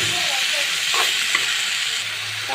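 Carrots stir-frying in a pan of spiced vegetables, a constant close hiss and sizzle with a few soft stirring scrapes.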